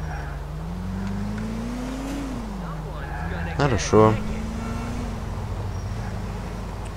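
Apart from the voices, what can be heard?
car driving in the video game Grand Theft Auto IV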